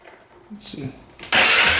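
A $4,000 ATV's engine, being repaired, cranks faintly, then abruptly catches and fires up loudly near the end, roaring close by.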